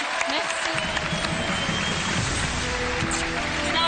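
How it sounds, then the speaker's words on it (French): Steady applause from a television game show studio audience, clapping densely and continuously throughout. "applaudissements"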